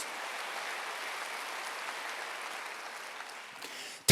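Steady applause from a church congregation during a Wednesday worship service, a soft continuous patter of hands filling the room for about four seconds before a sudden loud burst at the end.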